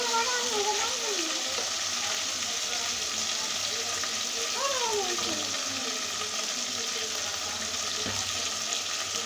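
Spices frying and being stirred in a pan for tomato chicken: a steady, close hissing sizzle throughout, with a voice speaking faintly over it.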